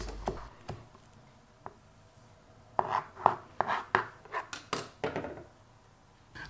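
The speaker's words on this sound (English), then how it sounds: "So finely chop the mint leaves" A knife finely chopping mint leaves on a board, sparse taps at first, then a brisk irregular run of crisp cuts, close and clear with no talking.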